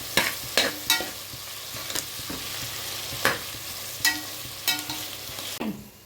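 Onions sautéing in a pan, a soft sizzle under repeated scraping and stirring strokes from a spoon, several sharp clatters spaced irregularly, close and fairly quiet.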